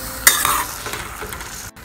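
Mashed eggplant being stirred in a pan for Khandeshi bharit, a loud, close scrape-and-squelch of stirring with a light sizzle underneath, one sharp stroke followed by softer motions.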